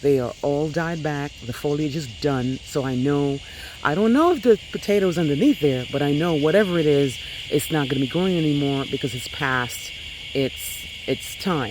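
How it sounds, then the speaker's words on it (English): Cicadas drone in a steady, high buzzing chorus at dusk around a home vegetable garden, continuous and fairly loud beneath someone talking throughout. "you're going to be hearing a lot of cicadas all of a sudden"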